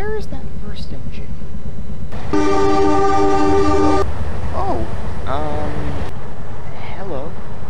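A train engine rumbles steadily while its horn sounds in a long, loud sustained blast, with short toots around it and voices speaking over parts of the scene.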